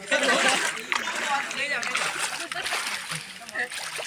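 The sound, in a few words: water filling a container, splashing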